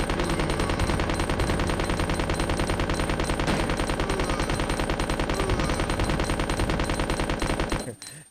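Ada opens fire in the Dreamcast version of Resident Evil 2: a loud, unbroken stream of rapid automatic gunfire pounds on for several seconds and then cuts off abruptly near the end.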